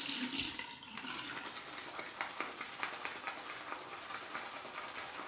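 Tap water runs steadily onto a shaving brush at a sink for several seconds, with a close, continuous splashing stream and no talking.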